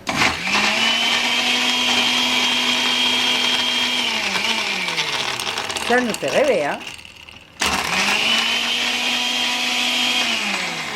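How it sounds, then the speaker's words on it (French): An electric blender whirs steadily while mixing a pisco sour, holding a loud, close motor drone, then slowing and stopping with a brief sputter before starting up again, with a voice speaking briefly over it. "Et ensuite, on passe au mixeur."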